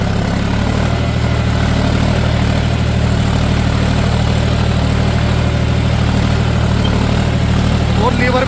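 A John Deere 5105 tractor engine runs at about 1500 rpm driving an 8.5-foot Maschio rotavator, a loud steady diesel drone and rumble held at constant pitch for the whole stretch.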